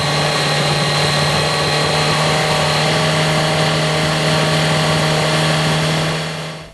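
Motorcycle engine held steady at 5000 rpm during a battery charging check, a loud, constant high-revving drone with a strong steady tone and no variation, close to the machine, alone without talk.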